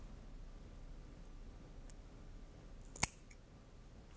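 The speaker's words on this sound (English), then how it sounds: "remove the aramid yarn using a pair of snips" A pair of snips makes a single sharp, close snip while cutting the aramid yarn of a jacketed fiber optic cable, set against quiet near-silence.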